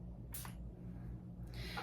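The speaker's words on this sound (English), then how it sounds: "I'm going to spray it on the inside of this arm" Two quick hissing spritzes of perfume sprayed onto the inside of an arm, short bursts separated by a pause over a low, steady background hum.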